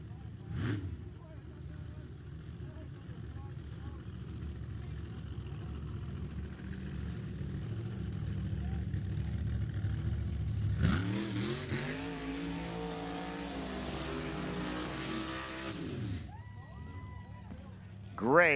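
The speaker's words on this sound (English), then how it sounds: "Great side-by-side burnouts." Two drag racing cars do side-by-side burnouts, engines idling and rumbling before surging into loud, rising revs that fall away, then a final revving burst.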